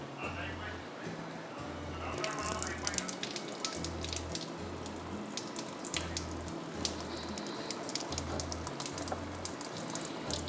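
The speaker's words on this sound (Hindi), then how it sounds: "पहले हम अपना हाथ क्यों ना धो लें।" Tap water runs steadily into a sink while hands are washed in a home kitchen before cooking, a continuous splashing hiss under a voice talking throughout.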